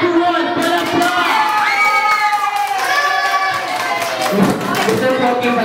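An audience at a community mothers' contest claps and cheers loudly and continuously, with children shouting and voices calling out over the crowd noise.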